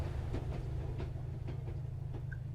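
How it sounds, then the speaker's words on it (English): A train at a station in the video game Mad Tower Tycoon gives a low steady rumble with faint rhythmic clicking over it, continuous and moderately loud. "Look at that. Train stopped."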